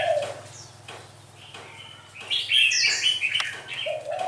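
A red-whiskered bulbul, kept as a fighting bird, gives loud, close, bright chirping phrases in short bursts, with a low steady hum running underneath.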